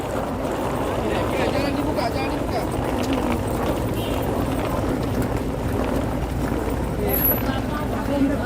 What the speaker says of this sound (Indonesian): Ini dia kapal Ciremai, kapal yang akan kami naiki untuk menuju ke Makassar